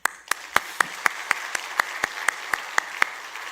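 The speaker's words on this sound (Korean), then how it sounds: "묻지도 말고 따지지도 말고 칭찬의 박수." A church congregation claps in praise at a Thursday worship service, a steady, rhythmic run of a dozen or so crisp, evenly timed claps, close and unaccompanied.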